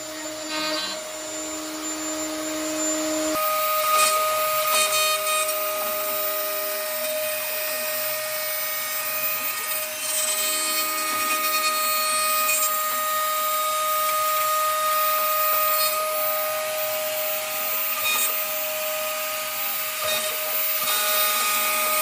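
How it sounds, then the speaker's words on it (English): A CNC machine cuts acrylic sheet for COVID-19 face shields, giving a loud, steady high-pitched whine with sustained tones and shifting pitches as the cutter moves, running continuously throughout. "I have the CNC down here cutting the acrylic for the shields."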